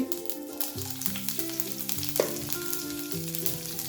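Mustard seeds, cumin and chili hitting melted ghee for masala oats, a steady sizzle and crackle with faint popping of seeds, close and fairly loud with no talk.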